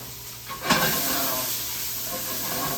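Onions and red chilies sizzle in a hot pan, with a brief clatter of stirring near the start followed by a steady, close frying hiss.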